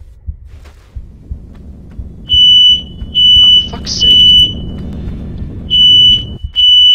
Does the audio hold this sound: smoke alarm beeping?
yes